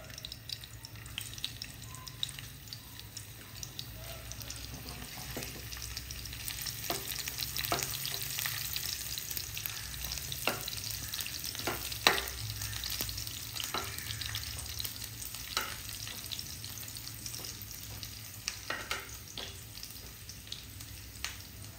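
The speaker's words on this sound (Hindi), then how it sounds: "तड़का केली" A tadka tempering sizzles and crackles in a pan while being stirred, cooking for a Goan pakoda curry, a continuous faint frying hiss dotted with soft pops and scraping, no voices.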